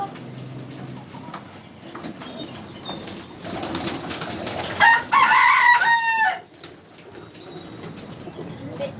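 Birds call nearby over a steady background at a pigeon and chicken farm, with a loud rooster crow rising in the middle before fading; cooing of local and fancy pigeons and clucking blend in.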